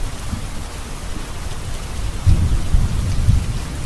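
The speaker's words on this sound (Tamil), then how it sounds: "அதுக்கப்புறம் ஒரு நாள் நல்ல மழை." Heavy rain falls steadily throughout, with deep thunder rumbling low underneath and swelling louder in the second half; no voices.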